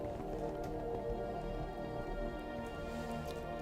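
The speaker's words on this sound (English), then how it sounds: "And I hope it stops raining soon." Rain falling in modded Minecraft, a soft, steady patter of drops on surfaces, continuous and fairly faint, with no voices over it.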